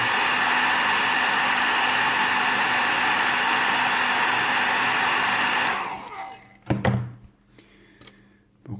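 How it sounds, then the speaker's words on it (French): A hair dryer blows steadily on a part of a Revell 1/24 Audi R8 model kit, a loud continuous roar that cuts off after about six seconds, followed by a few knocks and handling thumps. "Un petit coup de sèche-cheveux."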